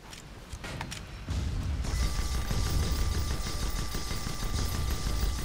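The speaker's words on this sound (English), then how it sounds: "I have eyes on the enemy, Captain! Opening fire!" Airship guns fire in the video game Guns of Icarus, a dense sustained burst of mechanical shooting and clatter that swells after a quieter opening and carries on steadily, loud and close, with no talk.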